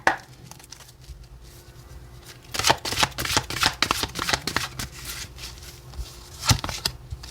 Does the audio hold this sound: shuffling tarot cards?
yes